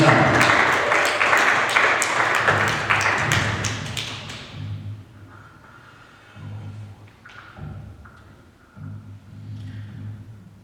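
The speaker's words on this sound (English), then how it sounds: "Let's get another round of applause for Cheree." Audience applause at a Canton First Friday poetry slam evening, a dense patter of clapping for the poet that fades out after about five seconds, followed by quieter murmurs and low room thumps.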